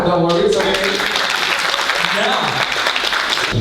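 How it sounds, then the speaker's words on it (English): Audience clapping at a fundraising gala, a dense steady patter of many hands filling the room, loud and close, with crowd voices mixed in throughout. "It's okay to clap, don't worry, it's okay"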